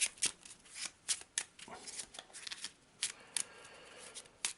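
A deck of gate cards for the Eldritch Horror board game gets a quick shuffle, with crisp riffling bursts and sharp snaps repeating irregularly close by and no talk over them.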